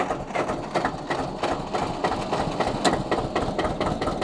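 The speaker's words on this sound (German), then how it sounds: "ich fahre jetzt hier diesen wunderschönen Trecker" A Porsche tractor engine idles close by in a steady, lumpy mechanical chug with a fast, even rhythm and nothing else over it.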